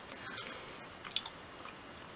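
A piece of gum chewed close up in a mouth, giving faint, soft, moist squishing and clicking sounds that are quiet and irregular against low background noise.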